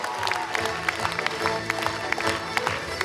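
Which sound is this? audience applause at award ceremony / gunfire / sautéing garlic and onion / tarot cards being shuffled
audience applause at award ceremony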